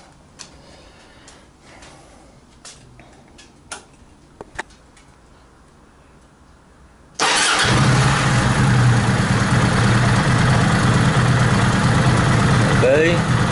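A Kawasaki Vulcan 800 motorcycle is started after a coolant change: quiet ticking and clicks, then the engine catches abruptly and settles into a loud, steady idle close by.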